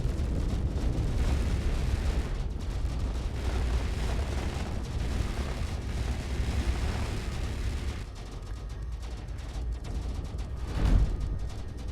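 Trident weapons firing in the video game Space Engineers during a PvP tournament match, a continuous loud barrage of rumbling booms and explosions, with a heavier blast near the end.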